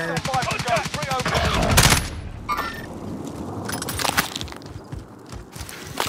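Rapid automatic gunfire bursts and single shots from a battle royale video game with gas-zone alerts, loud and close, with a voice speaking over parts of it.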